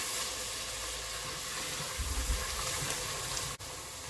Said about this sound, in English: You're going to cook these spices through for about 2 or 3 minutes.